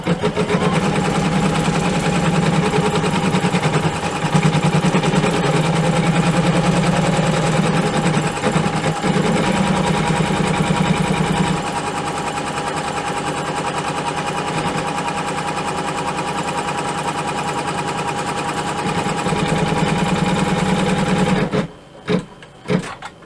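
An embroidery machine stitching an outline for an in-the-hoop vinyl glasses holder, a fast steady mechanical chatter that runs continuously at close range, then stops near the end with a few brief clunks.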